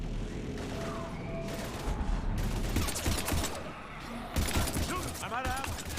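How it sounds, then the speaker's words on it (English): Heavy gunfire in the video game Mass Effect 3, dense rapid bursts and impacts with explosions and whooshing effects, mixed with game voices shouting under the battle. "we're taking heavy fire"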